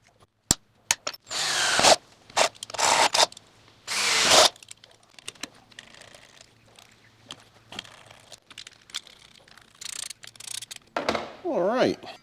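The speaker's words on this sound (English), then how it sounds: "Then I'll drill them out and I'll put in some M6 riv nuts in there" A power drill whines in several bursts of varying length, drilling holes in a metal bracket for M6 rivet nuts, separated by pauses with clicks and handling noises, close by.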